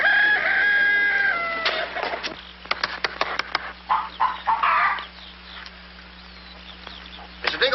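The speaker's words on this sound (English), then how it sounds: "I'm going to tap every one of those hens till I find the one that lays the golden egg" Hens clucking and a rooster crowing in a farmyard henhouse, with a sustained crow-like call early on followed by scattered short clucks and bursts, fairly close and clear with no talk.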